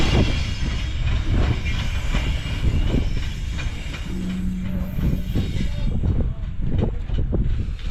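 An iron ore train in Mauritania rumbles along with steady rolling roar, wheel clatter and occasional squeals and hiss, as heard from an open ore wagon riding close on the moving train.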